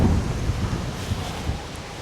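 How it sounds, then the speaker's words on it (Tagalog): Strong wind buffets the microphone at an old Spanish-era cemetery, a loud, low, gusty rumble that swells and dips over the short stretch. "Yung lakas ng hangin eh."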